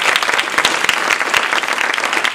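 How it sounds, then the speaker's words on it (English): An audience at a Toastmasters speech evaluation contest applauds the Toastmaster, a loud sustained round of many hands clapping in a dense, uneven patter that fills the room. "let's give a round of applause to our Toastmaster"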